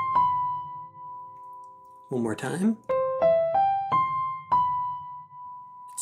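Ear-training melody stepping through do, mi, so, do, ti: clear sustained pitched tones held in turn, with a long held opening note and a short spoken phrase in a gap partway through.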